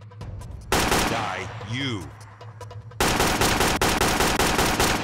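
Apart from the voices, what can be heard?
gunfire in the video game Counter Terrorism Unit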